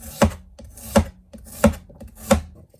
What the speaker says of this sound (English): Cut the Chinese yam into small slices.